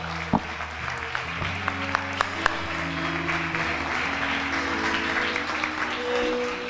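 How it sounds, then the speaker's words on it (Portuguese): A congregation at an evening church service applauds, producing a steady wash of clapping with a few sharp individual claps near the start, under sustained organ-like musical tones. "dê uma linda salva de palmas para o Senhor Jesus nessa noite"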